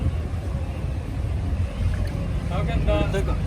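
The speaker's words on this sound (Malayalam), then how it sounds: "വഴിക്ക് ഇങ്ങനെ ബോട്ട് വരാണ്" A boat moving along the backwaters of Alappuzha, with a low rumbling engine drone and wind noise throughout, plus a brief tonal whine near the end, heard close over the water.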